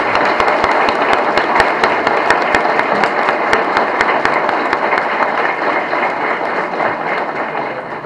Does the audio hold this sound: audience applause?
yes